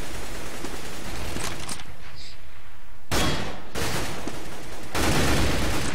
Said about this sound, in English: Oh, headshot from Kala through the smoke into Sloan